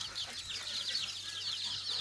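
Free-range backyard hens in a village coop give off faint, repeated clucks and chirps, steady and low in level, with nobody speaking.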